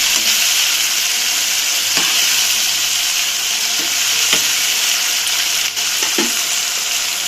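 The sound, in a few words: turmeric frying in a pan for chitranna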